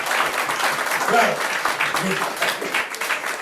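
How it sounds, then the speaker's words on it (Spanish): Congregation at a Spanish-language church service applauding steadily, a dense wash of clapping with a voice speaking briefly over it. "Denle un aplauso al Señor Dios."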